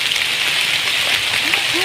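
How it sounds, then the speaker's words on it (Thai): Rain falls with a dense, continuous pattering hiss, steady and fairly loud throughout, with no voices heard. "ทุกคนเสียงโปแปะโปแปะนี่คือ ฝนตกนะ"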